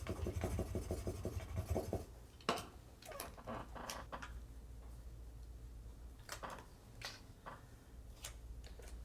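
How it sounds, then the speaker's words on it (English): A scraper burnishes Cricut Smart Vinyl down in quick, faint rubbing strokes, starting with a rapid scratchy burst and then spaced scrapes and light taps, close and quiet with no talking. "So I'm going to burnish this down with my scraper."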